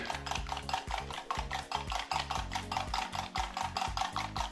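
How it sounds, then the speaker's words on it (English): Egg white beaten with vanilla and water until frothy for candied pecans, a steady rapid rhythmic whisking against a bowl, close and moderately quiet, continuous throughout. "we're going to whisk this up just till it's kind of frothy"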